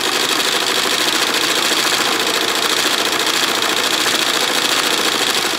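An industrial embroidery machine stitching the back of a jacket at roughly 800 RPM, giving a loud, dense, unbroken mechanical chatter with a fast even needle rhythm, close up and with no talking.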